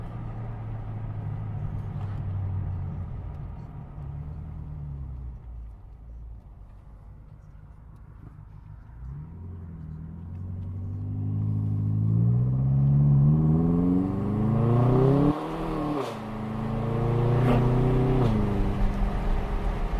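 A BMW M6 engine pulls under acceleration from inside the car, a low droning rumble that climbs in pitch as it revs, eases, then builds again with rising harmonic whine.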